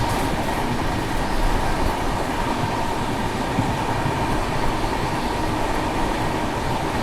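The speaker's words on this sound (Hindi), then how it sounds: "सामने से आने वाली train number 14692 Jammu Tawi Barauni Aurangabad express क्योंकि अपने टाइम से 46 मिनट की देरी से आ रही है" The Jammu Tawi–Barauni Aurangabad Express, train 14692, passes by with a loud, continuous rolling roar of wheels on track and a faint rhythmic clatter that holds steady throughout.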